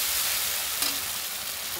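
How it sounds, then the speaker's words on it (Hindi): Onions and tomatoes with a spoonful of garam masala frying in a pan, giving a steady, close hiss of sizzling with a faint stir partway through and no voices. "प्याज और टमाटर सब अच्छे से पक जाए, भुन जाने देंगे इसको अच्छे से"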